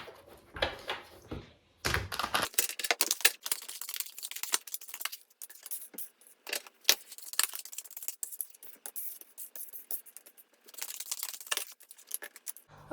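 Tarot cards are shuffled, drawn and handled close up, with quick papery flicks, slides and soft taps in irregular bursts separated by short quiet gaps, and no talking.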